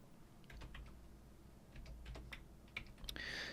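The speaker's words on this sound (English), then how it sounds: "Excuse my bad typing." Soft, irregular clicking of computer keyboard typing at close range, a few keystrokes in short bursts over a faint background hum.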